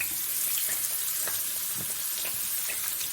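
Fish sizzling as it fries in hot coconut oil with curry leaves, a steady dense crackle and hiss throughout, close up with no voices.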